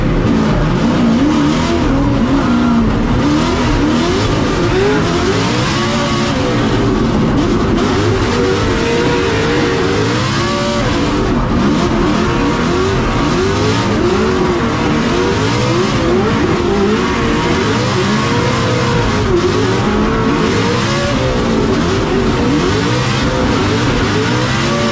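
A Ford Mustang RTR drift car competes at a Formula Drift event in Englishtown, New Jersey, its engine revving hard and steadily with tire squeal and skidding throughout, loud and continuous with crowd-like background noise.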